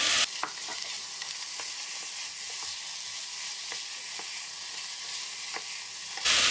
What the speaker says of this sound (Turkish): Soğanı kavururken de aynı şekilde orta ateşe düşürerek kavuralım